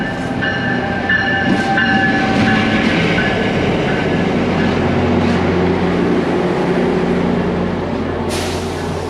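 Steady, loud rumble of a train riding the rails, heard from inside the carriage, with continuous low wheel-on-track roar, faint squeals and clatter throughout, and no one talking.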